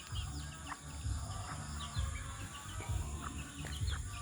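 Native chickens, a small flock of young hens, clucking and calling in short repeated bursts outdoors, with faint bird chirps and a low background hum.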